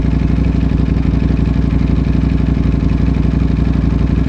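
A Ducati Panigale V4 motorcycle engine in race mode B runs steadily at idle or low revs, with a loud, continuous, close-up throb and a fast, even pulse and no pauses.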